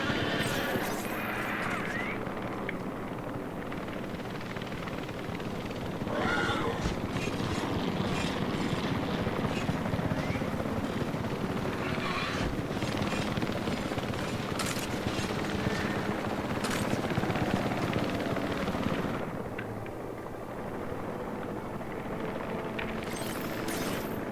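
A helicopter flies in the video game Jurassic World Evolution 3, giving off a steady, continuous rotor roar with scattered thumps. It holds at a moderate level throughout, eases off near the end, and no one speaks.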